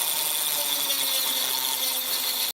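A makeshift lathe turns a plywood firewall for an RC PBM Martin Mariner model, giving a steady, whirring power-tool whine with a scraping edge, close and loud, cutting off abruptly.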